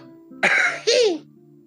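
A single person coughs and clears their throat in two short, harsh bursts, close and fairly loud, against a quiet background.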